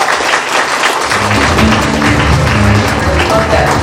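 Audience at a Shriveda programme held at a hotel in Bodhgaya clapping loudly, with dense, sustained applause that swells after the first second and continues steadily to the end.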